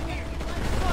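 Rapid gunfire in the video game PlanetSide 2 crackles in a dense, continuous burst lasting about a second, loud and close, with speech mixed underneath.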